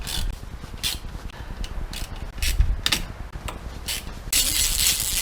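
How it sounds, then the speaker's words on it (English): A 1/4 inch ratchet tightening bolts on a BMW E39 530i, giving short bursts of rapid clicking separated by brief pauses, close up, ending in a louder rustling burst. "So that's all 6 bolts nicely tightened. It's only a 1/4 inch ratchet"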